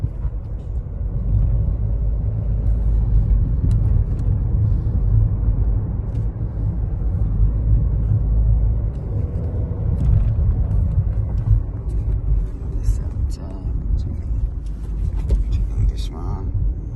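A 2019 Chevrolet Malibu with a 1.5 L engine on the move, giving a steady, loud, low road-and-engine rumble that holds for the whole stretch without breaks.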